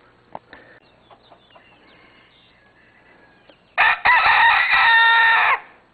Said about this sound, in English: See if I can rescue the rooster.